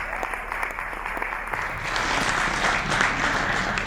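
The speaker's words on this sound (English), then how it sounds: "Please clap for M.O.P." Applause from a standup comedy audience, starting moderate and swelling louder and denser partway through, continuous clapping from a crowd with no speech.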